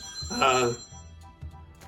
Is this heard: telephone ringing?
yes